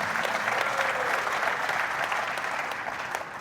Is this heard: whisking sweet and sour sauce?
no